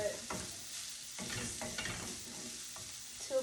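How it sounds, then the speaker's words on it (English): Chili flakes and garlic sizzle and crackle in a pan while being stirred, with several scraping strokes of the utensil over a steady close frying hiss, heard alone. "I'm just kind of cooking this around, and I'm going to let it cook down a little bit"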